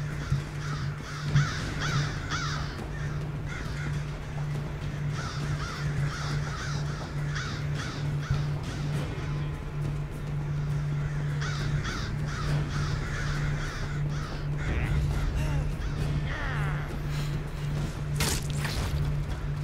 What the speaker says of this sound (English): It's a lot of crows. They're all like fighting each other.